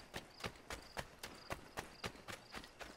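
Horse hooves clip-clop in Assassin's Creed III, about ten evenly spaced, crisp hoofbeats at a steady trot, fairly quiet with faint ambient game sound behind.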